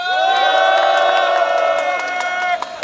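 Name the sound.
crowd cheering and clapping at a rally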